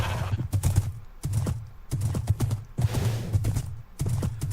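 Repeated rhythmic clip-clop of horse hooves in a Minecraft video game, in quick bursts, loud and close, with short gaps between runs of steps.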